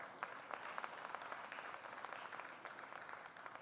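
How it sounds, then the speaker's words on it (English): An audience at a trade summit applauds its founder with a soft, distant wash of clapping, individual claps popping out irregularly across a few seconds. "So a big round of applause for our founder."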